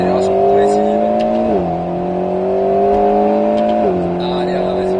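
Alpine A110 S on the Grand Sambuc race circuit, its engine droning steadily and climbing in pitch through two gear changes under progressive acceleration, heard from inside the car while an instructor talks over it.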